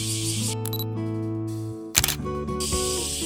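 A camera fitted with an AstrHori AF 85mm F1.8 Z lens fires its shutter, giving a sharp mechanical click over steady outdoor ambience while flowers are photographed, with no speech.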